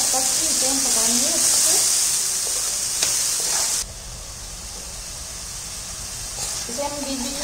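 Tomato, ginger and onion gravy sizzles in oil over a medium flame, a continuous close hiss that drops in level partway through, while a person talks over it at the start and end.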